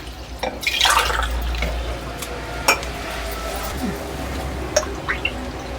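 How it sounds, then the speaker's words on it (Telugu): Glasses of water are poured into a pot for making sago papad, a gushing splash at the start followed by drips and several light clinks of glass against metal. "ఇప్పుడు దీంట్లో మనము 5 గ్లాసులు పోసుకోవాలి నీళ్ళు"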